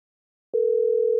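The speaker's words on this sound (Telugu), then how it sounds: "రింగ్ అవుతుంది కానీ లిఫ్ట్ చేయట్లేదు" An unanswered phone call's ringback tone: one steady, clear electronic tone starts partway through and holds on its own to the end.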